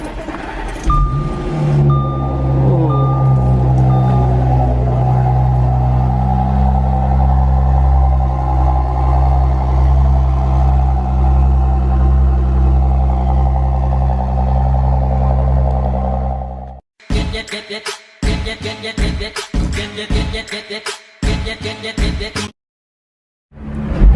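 A tuned 400-horsepower Audi S5 engine runs at a steady, loud idle for about seventeen seconds, then cuts to a series of short, choppy bursts of engine noise.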